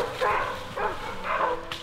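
Medium-sized hunting dog from the Karst coastal region barking: three loud, close woofs spread evenly over under two seconds, under a narrator's voice.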